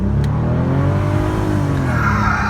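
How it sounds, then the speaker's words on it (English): The W12 engine of a 2008 Bentley Continental GTC accelerates hard, a loud continuous roar rising in pitch like a building scream, close and alone without talk. "it goes from sort of this confident, you know, W12 launch into an absolute scream of rage"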